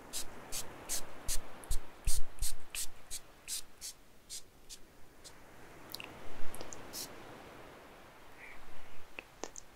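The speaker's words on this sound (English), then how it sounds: "but I'll spray a little bit more" A spray bottle mists hair during a spa haircut, giving a run of short, crisp hissing bursts close to the ear. The bursts come in a quick rhythm at first, then thin out to a few scattered sprays over soft handling sounds.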